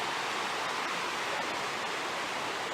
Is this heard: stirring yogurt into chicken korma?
no